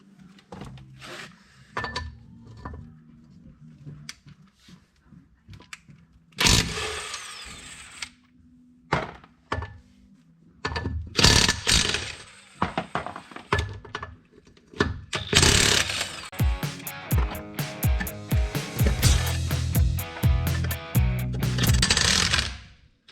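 Work on the front wheel of a 1963 VW Beetle: bursts of a power tool spinning off lug nuts, separated by clanks, metallic clinks and handling noises in a quiet garage.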